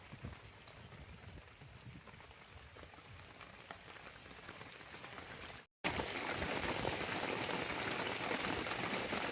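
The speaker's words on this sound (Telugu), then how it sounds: "వర్షం అయితే ఘోరంగా కొడుతుంది మొత్తం నీళ్ళు నిలిచినాయి పొలంలో" Heavy rain patters steadily on a waterlogged farm field nearby, a dense crackling hiss that briefly cuts out and then returns heavier and louder.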